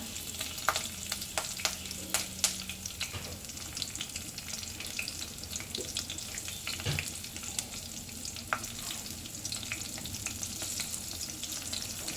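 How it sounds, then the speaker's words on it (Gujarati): Cumin seeds and green chilies sizzle in hot oil for an okra curry, a steady close crackle and hiss broken by a few utensil clinks from stirring, with no talk. "તો તેલ ગરમ થઈ ગયું છે। થોડું જીરું, લીલા મરચાં,"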